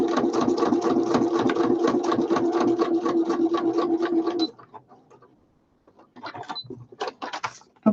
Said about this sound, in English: I'm just going to pop a straight stitch on that to sew it in.